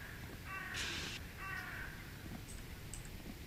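Crow caws from the Hello Neighbor Alpha 2 video game: two harsh caws close together near the start, then a few faint high chirps, over a steady hum of game background noise.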